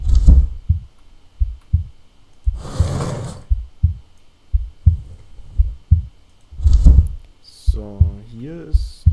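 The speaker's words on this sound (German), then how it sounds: "einen Herzschlag." Heartbeat in the video game Which: a steady, loud low thumping pulse repeating about once per second, with occasional louder whooshing sounds and game effects between the beats.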